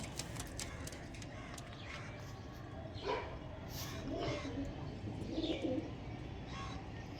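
Punjabi pigeons of an old Andhra line coo in several soft, low, rounded calls in the middle of the clip, over a steady bed of background noise.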